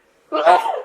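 A single sharp sneeze bursts out close and loud after a moment of silence, then trails off briefly, heard indoors during a knitting session.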